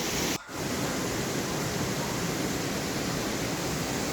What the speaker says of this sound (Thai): เสียงน้ำไหล เป็นเสียงธรรมชาติมากผ่อนคลายครับ